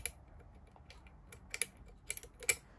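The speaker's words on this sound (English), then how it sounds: "So lever 5, lever 4, lever 3 are all clicking." Small lock levers click inside a Union 2101 curtain lever lock as it is picked with a scope: faint, sharp, close-up ticks that are sparse at first and then cluster, with no talking.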